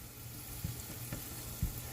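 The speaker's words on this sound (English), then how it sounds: "So we are sizzling our shallot and our garlic" Steady sizzling of shallot and garlic frying in a hot pan, with a couple of soft stirring knocks.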